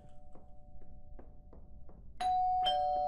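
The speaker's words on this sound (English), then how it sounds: "That sounded like a doorbell." A doorbell rings twice indoors, a bright ding-dong chime rising over soft knocking or footstep thuds, the second tone ringing on and fading.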